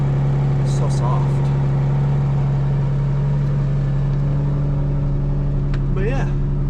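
A Subaru SVX idles steadily after its first start in a long time, a loud constant engine hum with a low droning tone, while a person talks briefly over it.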